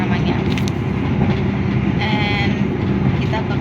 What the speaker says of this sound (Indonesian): Jadi tadi itu kita naik dari Kediri pakai kereta Malabar namanya.